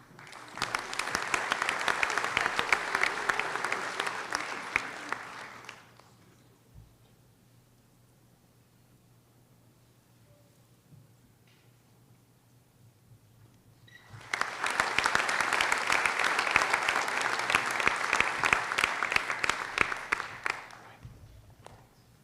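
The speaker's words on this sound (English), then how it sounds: "Let's give him another round of applause." At a medical school white coat ceremony, an audience breaks into two long bursts of applause, each lasting several seconds, with a quiet pause of near silence between them.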